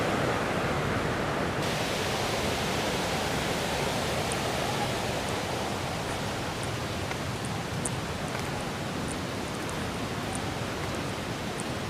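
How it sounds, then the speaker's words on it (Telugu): Water falls from a hill at a forest temple, a steady broadband rush of cascading water that holds constant and fairly loud throughout, with a few faint high chirps over it. "పైనుంచి పడతాయి వాటరు."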